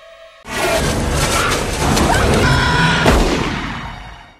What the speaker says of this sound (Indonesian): terlihat panik setelah mendengar suara tembakan dari arah hutan